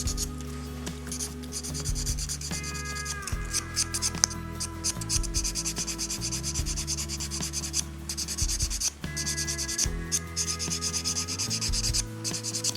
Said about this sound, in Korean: 골고루 갈아주세요.